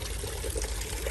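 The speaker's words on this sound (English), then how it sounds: "nice big water feature there" A large garden water feature trickles and splashes steadily on a sunny day, a continuous close pouring of water with no voices.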